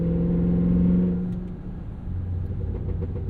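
A 2026 Cadillac Escalade V's supercharged 682 hp LT4 V8 rumbles through a burble exhaust tune, starting with a brief droning tone and settling into a low, close, rough exhaust burble.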